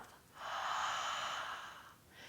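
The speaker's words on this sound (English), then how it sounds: "And exhale, let it out through the mouth." A single long, breathy exhale through the mouth during yoga Ujjayi breathing practice, steady and close, lasting over a second with a softer breath starting at the end.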